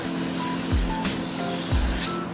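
Two short hissing sprays of cooking oil from an aerosol can onto chicken for grilling over hot coals, each a quick burst about a second apart, close by and alone.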